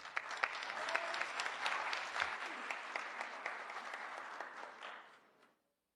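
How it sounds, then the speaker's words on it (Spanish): A formal forum on women in law at a Mexican senate venue fills with loud, sustained audience applause that carries on for several seconds before fading out. "Recibimos con un fuerte aplauso"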